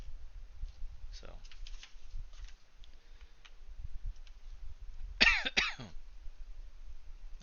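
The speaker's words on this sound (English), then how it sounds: "I know my coughing is not also what you signed up for with tonight as well" A person coughs a couple of times in a quiet room during a Gunpla model-building session, short sharp bursts with faint ticking and tapping between them.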